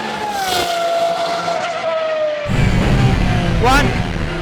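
A sports car engine revving with a rising, sustained whine, then a louder, rougher roar as the car accelerates close by.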